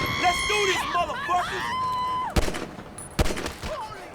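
Gunfire in the GTA 5 video game arrives as two sharp, loud bursts of shots among game sounds and synthetic tones, with a voice speaking around them.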